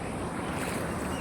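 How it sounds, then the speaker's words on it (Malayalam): Knee-deep floodwater sloshing around moving legs during heavy rain in Sharjah, a dense, steady wash of splashing and rushing water close to the microphone, with no voices. "ഇങ്ങനെയാണ് നടക്കുക. ഓക്കെ, മുട്ടിൻ്റെ അത്രയും വെള്ളം."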